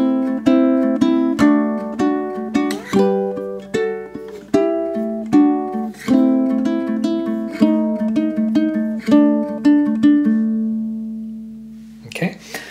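Ukulele plays the five-measure chorus of a song, a steady stream of plucked notes and strums ringing close and clear, with a brief noisy rustle at the very end.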